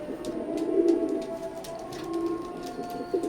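An imported Teddy pigeon cooing in its loft: soft, repeated throaty coos with a steady mid-pitched hum, close and fairly quiet, with faint clicks and background noise.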